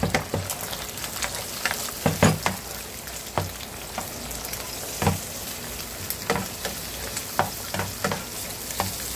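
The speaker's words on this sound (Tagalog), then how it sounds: "At ilalagay ko na rin yung pork na binagoongan." Binagoongan pork fries in a pan with bagoong alamang, giving a steady close hiss of sizzling broken by repeated scraping and clattering stirring strokes, with no voices.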